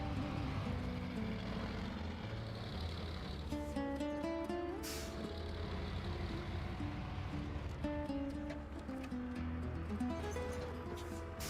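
Truck engine in the SnowRunner video game, a continuous droning rumble with shifting tonal whine as revs rise and fall, steady and moderately loud throughout.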